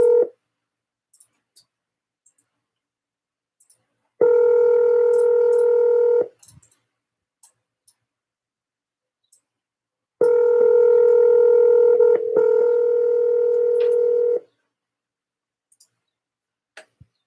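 Electronic telephone tones from an outbound cold call, two sustained steady buzzing tones of about two and four seconds separated by silence, loud and close with no talking over them.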